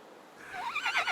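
A horse in the video game Windstorm whinnies, a single short, rising and quavering neigh that swells in the second half, heard alone and fairly quiet.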